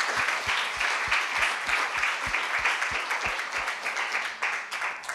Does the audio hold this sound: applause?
yes